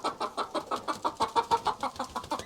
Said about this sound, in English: I'm sure he'll be fine because these are very young hens.